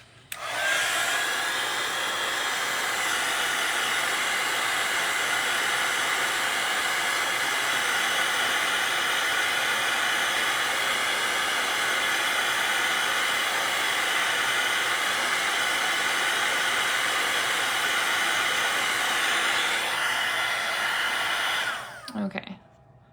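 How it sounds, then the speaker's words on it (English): A hair dryer blows a loud, steady hiss to dry paint on a lighthouse painting, running continuously for about twenty seconds before switching off. "let me get my dryer"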